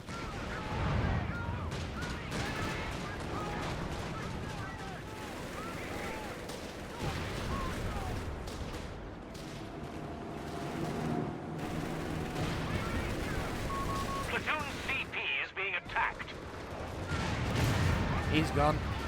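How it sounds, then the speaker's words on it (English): Enemy gunfire and artillery from a Company of Heroes 3 battle in the Italian campaign, a dense continuous barrage of rifle and machine-gun bursts mixed with heavy blasts, loud throughout, with a voice talking underneath. "Our platoon command post is under enemy fire."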